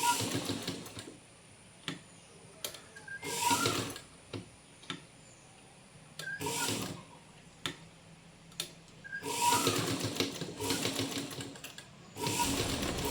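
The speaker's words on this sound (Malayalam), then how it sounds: "അപ്പം വീഡിയോയിൽ കാണുന്നത് പോലെ സ്റ്റിച്ച് ചെയ്യുക." A sewing machine stitching a petal pan neck, running in several short rapid bursts of close mechanical ticking and whirring separated by pauses, with no talking.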